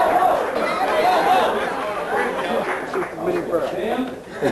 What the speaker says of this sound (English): It's a hostile crowd.